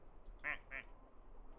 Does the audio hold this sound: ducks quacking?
yes